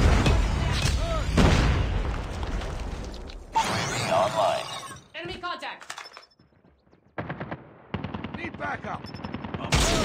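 A predator missile explodes in Call of Duty Mobile with a loud boom, set among rapid bursts of machine-gun fire that break off into brief lulls before the shooting starts again.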